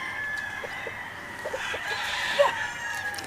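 A Melsim Black gamefowl rooster at a game farm clucks and crows in short bursts over a low background hum, with a louder call near the end.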